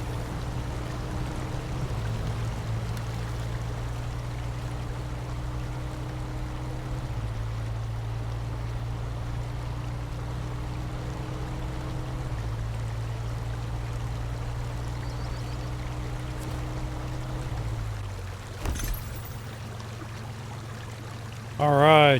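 A SnowRunner Twinsteer truck drives through water near Island Lake, a steady engine drone under continuous splashing and rushing water that shifts pitch midway and cuts off near the end.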